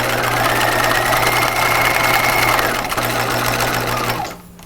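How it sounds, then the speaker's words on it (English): Close, loud sewing machine edge stitching the casing of pajamas, a continuous steady whir with a slight drop in pitch before it winds down and stops. "I'm going to stitch all the way around the casing, edge stitching that lower edge of the fold in place"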